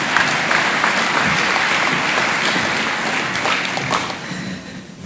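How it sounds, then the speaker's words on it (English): Summit delegates applaud a government minister as she is introduced at a jobs summit, a sustained, dense crowd clapping heard at moderate distance that fades slightly over about five seconds. "Can we give her a round of applause?"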